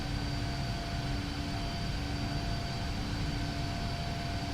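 Turkish Airlines PMDG 777-300ER jet airliner in a Prepar3D flight simulator, steady loud engine roar with a constant droning hum throughout.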